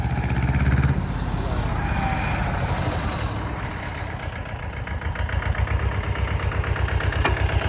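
A small diesel engine of a mini tractor, model 3630, idles with a steady low chugging rhythm, close by, growing slightly louder toward the end.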